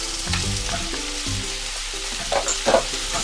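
Chopped onions and mixed vegetables for veg jalfrezi crackle and hiss in a hot pan. The close, continuous sizzle picks up a few sharper clinks and spatters toward the end.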